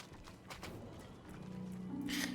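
Horse hooves in the video game Diablo 4, a faint rhythmic clip-clop of hoofbeats under a quiet game soundscape that swells slightly toward the end.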